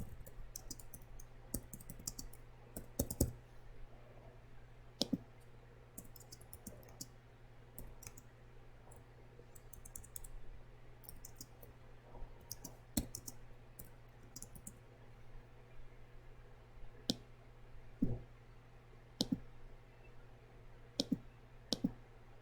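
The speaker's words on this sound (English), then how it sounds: "enter 2 single line spaces, and type the date of the agenda." Quiet, steady keyboard typing mixed with sharper mouse clicks at a computer during office document work, in irregular bursts throughout, with no talking.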